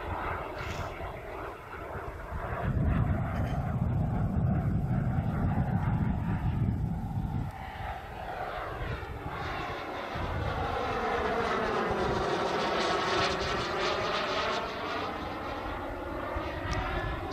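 A Tuono NRG model sport jet on its maiden flight roars overhead, its turbine whine rising and sweeping past in a loud, steady Doppler pass with wind noise, no talk.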